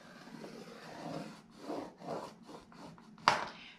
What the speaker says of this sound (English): on the 4 3/4 inch side, we are going to score this at 3/4 of an inch.